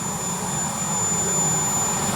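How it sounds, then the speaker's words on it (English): Turbine-powered, gas-fueled RC jet of about 80 pounds, engine running with a steady, dense roaring whine and a thin high tone, loud and continuous throughout with no talk. "massive RC jet that is turbine powered, gas powered"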